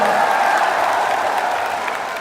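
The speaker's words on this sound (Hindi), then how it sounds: "दोनों हाथ उठाकर ताली बजाकर स्वागत करें नगीना के लोगों का" A crowd at a political rally in Nagina, India, claps in a dense, steady wash that fades slightly over the brief stretch, with faint cheering mixed in.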